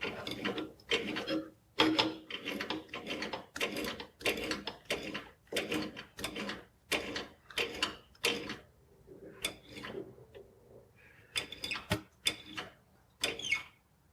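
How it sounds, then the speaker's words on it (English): A wrench tightens a tapered brass fitting in a series of rapid ratcheting clicks, close and fairly loud, in bursts with short pauses between strokes. "so I can just do the rest with the wrench"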